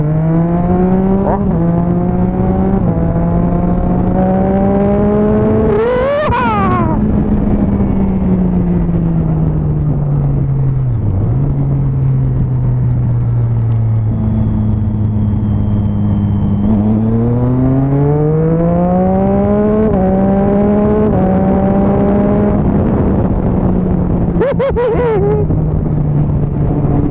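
A Volkswagen Jetta engine revving and accelerating up through the gears, with rising and falling engine tones and brief gear-shift dips. The sound is loud and close, as heard from inside the car, with no talking.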